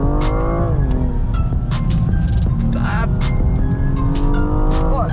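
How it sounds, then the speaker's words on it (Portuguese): A car drifting around a race track with loud, sustained tire squeal that rises and falls in pitch over a steady roaring engine, close and continuous throughout. "a gente deu um drift ali"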